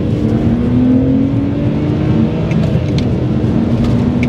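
BMW 130i engine accelerating under load, a steady, loud droning engine note with rising pitch and road and wind rumble, heard from inside the moving car without speech.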